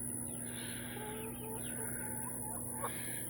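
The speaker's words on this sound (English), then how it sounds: "chickens are doing good." Chickens cluck softly in a backyard coop, a few short, low calls scattered over a faint steady background hum.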